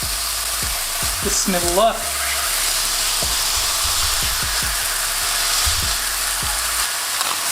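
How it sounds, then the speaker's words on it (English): Meatballs frying and being pressed flat in a hot pan: a steady loud sizzle with scraping and pressing knocks, a voice speaking briefly near the start. "When the pan is nice and hot, add in your meatballs. And just smash that."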